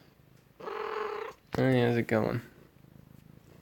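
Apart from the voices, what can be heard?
pet cat Lucky meowing and purring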